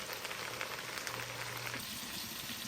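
Spinach frying in a pan, a steady soft sizzle with a crackling hiss throughout and no voices.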